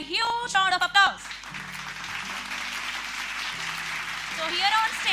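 Crowd applause at a school annual day fills the space after a brief burst of voices, a steady broad wash of clapping that holds for several seconds with a low hum beneath.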